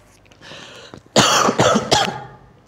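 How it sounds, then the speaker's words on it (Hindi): A few sharp coughs close to the mic, three harsh bursts in quick succession after a faint breathy lead-in. "सर्दी का असर है, दिसंबर चल रहा है तो खांसी हो रही है"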